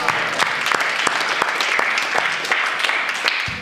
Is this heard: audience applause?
yes